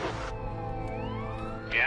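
An ambulance siren passes on a highway near Hope, Canada, after a head-on collision, its tone sweeping and rising in a moderate wail with a brief louder burst at the end.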